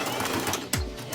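A sewing machine runs a short back stitch across the ends of a cargo mini skirt. The whir is steady and close, followed by a quick dropping thunk as it stops.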